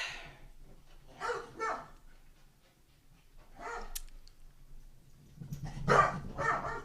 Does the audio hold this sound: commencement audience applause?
no